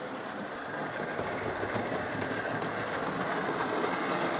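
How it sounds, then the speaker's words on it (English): Model train locomotives run along the track in a steady, continuous motor whir and rumble, near and even in level, with no talking. "I think I've got the locomotives warmed up now."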